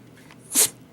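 A pet dog named Pacha gives a single short, sharp sneeze up close, a brief breathy burst amid otherwise quiet surroundings.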